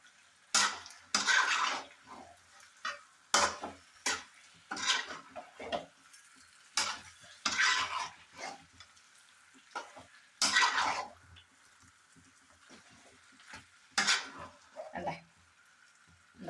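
Curry leaves are dropped into a pan of Kerala-style beef roast and stirred, giving intermittent scraping and stirring bursts with a light sizzle between quieter pauses.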